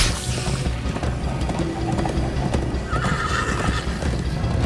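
A horse in Minecraft: Story Mode gallops with steady drumming hoofbeats while neighing and whinnying rise over the pounding, loud and close throughout.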